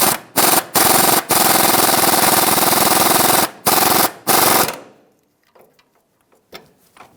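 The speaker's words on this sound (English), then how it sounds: "We're going to snug down the sway bar link nut." A power tool, likely an impact wrench, snugs down a sway bar link nut on a 2007-2017 Ford Expedition during a front CV axle job: loud, buzzing rattling bursts with brief pauses, then a few faint clicks and handling noises.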